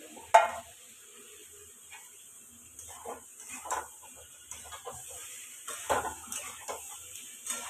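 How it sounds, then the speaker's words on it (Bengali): Potatoes go into a hot pan on a home stove and are stirred, producing a soft sizzle under scattered scraping and clinking of a utensil against the pan, quiet and intermittent with a few louder knocks. "এবারে আলুগুলো দিয়ে দেবো।"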